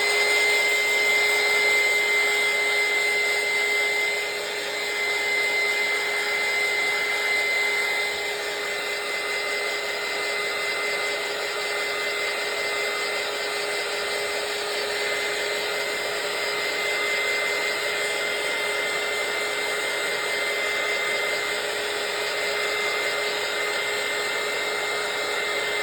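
A heat tool runs continuously for nearly half a minute, drying gesso on an altered playing card with a loud, steady whirring blow and a high tonal whine, alone with no talk.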